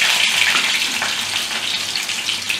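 Chopped onion and garlic sizzle in hot mustard oil, a steady, bright, close frying hiss that holds evenly throughout with no talking.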